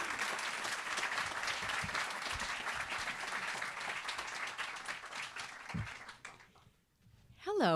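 Audience applause at a Books & Books talk welcoming a speaker, a steady wash of clapping from a crowd that fades out near the end, followed by a brief voice.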